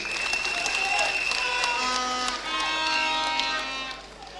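Staff of a county attorney's office receive a burst of applause and cheering at a deputy governor's swearing-in ceremony, a dense, sustained clatter of many hands with crowd noise, loud and steady for several seconds.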